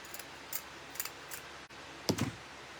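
Scissors snip paper and craft material for a Dollar Tree fall door hanger: a few light, evenly spaced clicks, then one louder, fuller cut near the end, close and alone in a quiet room.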